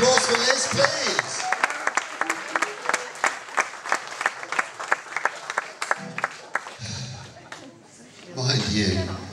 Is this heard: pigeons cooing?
no